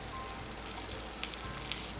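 Seaweed-wrapped rice paper rolls (Korean gimmari) deep frying in hot oil, giving a dense, steady, close sizzle with a few small pops and no talking.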